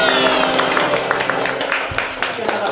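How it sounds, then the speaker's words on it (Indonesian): A studio audience on an Indonesian talk show applauds, giving a steady patter of clapping with a few sharper hand claps and faint talk underneath. "Boleh tepuk tangan sekali lagi."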